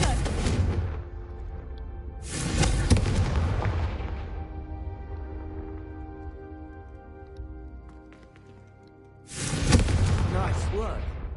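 The Confringo fire spell from Hogwarts Legacy is cast with heavy booming blasts: a loud whooshing burst at the start, another near three seconds, and a third near the end, each trailing into a rumbling decay with faint background between.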